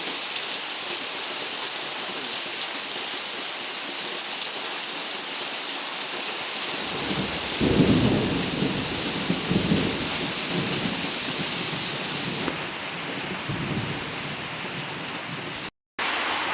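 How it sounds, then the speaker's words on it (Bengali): Heavy rain falls outside at night, a dense continuous hiss with a deep thunder rumble rolling in partway through; no voices, and the sound cuts out briefly near the end. "বাইরে প্রচুর পরিমাণে বৃষ্টি হচ্ছে"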